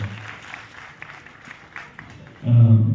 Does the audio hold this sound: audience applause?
yes